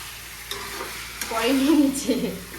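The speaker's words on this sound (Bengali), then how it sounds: "ভালো করে কষাতে হবে তার কারণ আদা রসুনটাও তো একসঙ্গে দেওয়া" Curry with ginger and garlic sautéed in a pan: a close stirring scrape and a couple of clinks over a faint sizzle, with a short tonal squeak in the middle.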